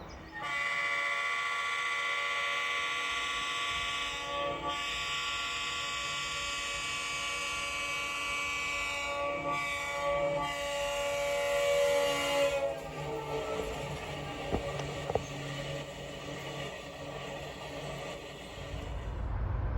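CSX westbound freight train approaching on the south track in the Mohawk Valley, a long steady multi-tone horn blast sounding loudly, then the rumble of the train passing close by.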